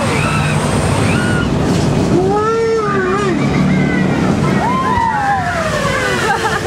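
An amphibious duck boat in Branson plunges into the water, with a continuous surging rush of churned water and splashing while passengers whoop and shriek in high rising cries over the wash.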